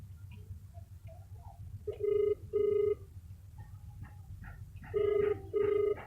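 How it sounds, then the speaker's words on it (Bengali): A phone ringback tone sounds in two pairs of short electronic rings, separated by a pause, over faint background hiss. "আরে ভাই রিং হচ্ছে,"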